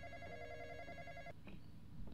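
A telephone rings in the Roblox game The Intruder, a steady electronic trill that stops abruptly partway through, leaving quiet room tone and a faint click.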